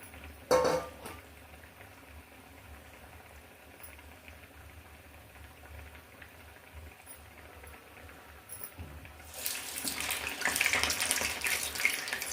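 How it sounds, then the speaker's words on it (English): Water from a tap runs as someone washes their hands in a kitchen, a faint trickle at first that swells into a louder rushing stream toward the end. "Let me wash my hands and come."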